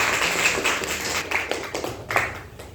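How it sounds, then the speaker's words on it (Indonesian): A small audience claps for Pak Irfan and Pak Yudi at a pharmacy marketing talk, a thin scattering of hand claps with a few louder bursts, fading and uneven over a few seconds with no talking. "tepuk tangan untuk Pak Irfan dan Pak Yudi"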